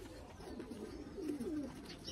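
A male military-breed pigeon gives a soft, quiet coo that swells briefly near the middle, over a faint steady background hum.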